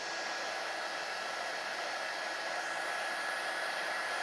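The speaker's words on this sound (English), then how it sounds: "Let me just blow dry real quick and then show you." A hair dryer dries a craft project, a loud, continuous, even blowing roar with a faint steady whine, running without pause and with no talking.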